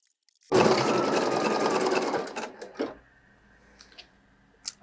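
A Pfaff Creative Icon embroidery machine stitches with a dense, steady whirring hum for about two seconds, then winds down into scattered clicks and mechanical taps, close and clear.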